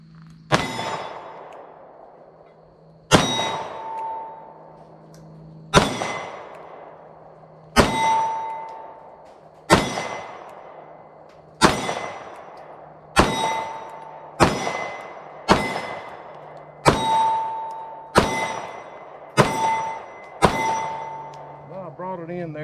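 A CZ P-10S subcompact pistol fires about a dozen shots, each followed by a ringing clang from a hit steel target, spaced a second or two apart and speeding up toward the end, outdoors with no voices.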